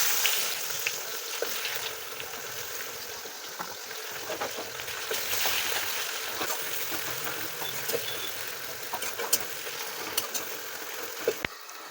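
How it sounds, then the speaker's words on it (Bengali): Sliced onions fry in hot oil with a pinch of black cumin, a steady crackling sizzle with scattered pops and faint stirring, close and moderately loud. "ফোড়নটা দেবার পর আমি এর মধ্যে ঝিরিঝিরি করে রাখা পেঁয়াজগুলো দিয়ে দেব"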